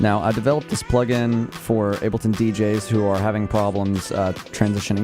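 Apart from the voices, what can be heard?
None of the usual background noises is heard.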